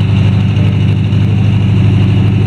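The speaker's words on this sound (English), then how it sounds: "I don't know if y'all can hear me talking while the car's running" Volkswagen car engine running at a steady idle, a loud, close, continuous low rumble with an even pulsing beat and no change in pitch.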